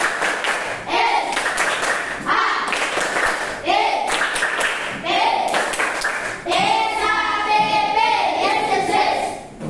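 A group performs a rhythmic clapping routine in counted sets, with bursts of sharp unison claps separated by short pauses and a leader's voice calling between them.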